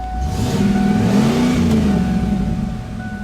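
A Ford Bronco engine revs up steadily and holds a loud, rising drone before easing off slightly near the end.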